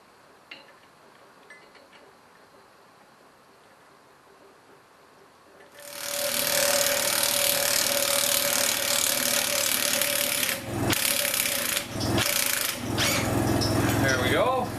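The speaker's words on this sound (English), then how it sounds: "We got a crossbar puller here that we can pull the yoke off with." A crossbar puller works the yoke off a Dana 60 axle. After a quiet stretch with faint clinks, a loud, steady grinding and ratcheting mechanical noise starts and continues, with a few short breaks, until the end.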